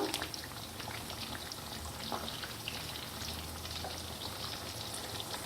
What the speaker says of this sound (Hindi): 3 से 4 मिनट हो गए हैं फ़िश को इस तरह पकते हुए।